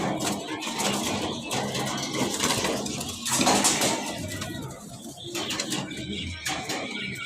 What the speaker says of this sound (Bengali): নর কবুতরটা যখন ডাকতে ডাকতে মাদিটাকে প্রস্তুত করে ফেলবে